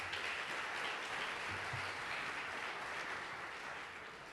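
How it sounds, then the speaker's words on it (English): Audience applause at an NYPD High Holy Days briefing, a steady wash of many hands clapping in a large room, fairly faint and distant, holding evenly for about four seconds and easing slightly at the end. "I'm going to borrow your applause because it does not belong to me."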